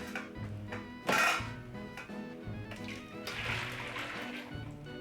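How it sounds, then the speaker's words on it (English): Freshly blended pumpkin mixture for Jamaican pumpkin punch is poured into a container in a kitchen, giving soft sloshing and trickling with a few dull thunks, close and fairly quiet. "I'm gonna pour my freshly blended pumpkin mixture into this container."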